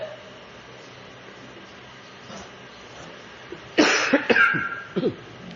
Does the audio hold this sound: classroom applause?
no